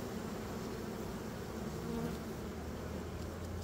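Honeybees buzz around open hive frames during a colony inspection, a continuous low droning hum of many insects close by, steady with no voices over it.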